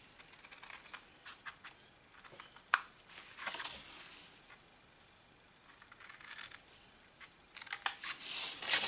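Paper pieces for a tealight candle gift box are cut with scissors, producing faint, scattered snipping and crisp rustling bursts that grow busier toward the end, no voices.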